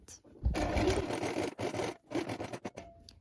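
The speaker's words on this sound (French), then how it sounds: "Et maintenant, vous allez coudre ce repli. Vous piquez à 5 mm." Sewing machine stitching a fold 5 mm from the edge while sewing a top, running in bursts with short pauses between runs, close and fairly loud.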